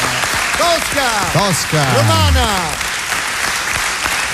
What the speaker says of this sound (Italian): Applauso vero